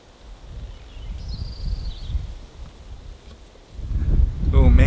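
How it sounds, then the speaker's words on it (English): Strong wind on an Alaskan homestead buffets the microphone in low, rumbling gusts, with a brief high tone and a voice starting up at the end. "Oh man, it is windy today."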